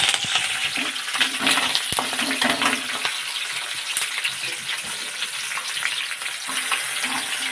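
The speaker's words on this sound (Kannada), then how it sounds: "ಇದಕ್ಕೆ ನಾನು ಈರುಳ್ಳಿ ಹಾಕ್ತಿದ್ದೀನಿ." Sliced onions frying in hot oil for a masala brinjal curry, giving a loud, steady sizzle with crackling and stirring scrapes throughout, close up and without speech.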